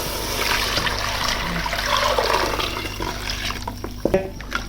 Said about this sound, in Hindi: अब जो ये लस्सी है ये सारी अब इसके अंदर शामिल कर देंगे।